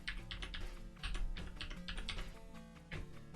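Fingers type on a computer keyboard close to the microphone, quick clusters of clacking keystrokes in irregular bursts with brief pauses between them, moderately quiet and with no voices.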